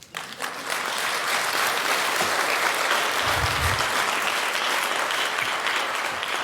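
A large audience breaks into sustained, dense applause that swells in the first second and holds steady and loud throughout, with a brief low thump partway through.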